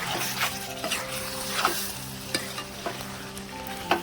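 Chicken curry bubbles and sizzles quietly on a low flame, a faint steady hiss with intermittent soft pops and occasional light stirring knocks.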